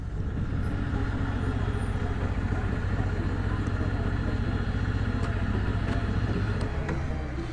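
A 450cc motorcycle engine on a test ride, a loud steady low rumble that holds an even throttle throughout with no talk over it.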